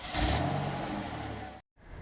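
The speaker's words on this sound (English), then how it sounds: "This is a 4-liter V8 with twin turbos." Mercedes-Benz GLS580 from 2021 with a 4-liter twin-turbo V8 and 9-speed automatic revs up with a loud, close engine roar that holds steady before cutting out briefly, then resumes faintly.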